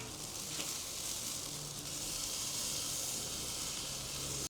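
Marinated pollo asado chicken pieces sizzling on a hot grill, a dense, continuous hiss and crackle that stays steady and close throughout.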